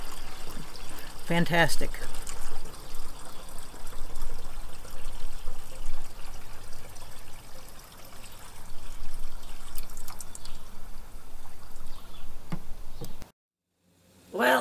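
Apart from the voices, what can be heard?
water pouring through DIY urine separator toilet test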